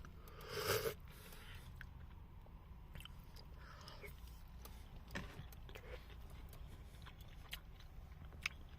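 Freeze-dried borscht topped with sour cream being eaten, a brief louder burst of biting and chewing near the start followed by faint, sporadic mouth sounds and small clicks in a quiet room.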